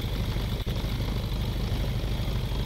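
Twin supercharged World War II aircraft engines in a video game drone steadily at close range, a dense low rumble with one brief dip partway through.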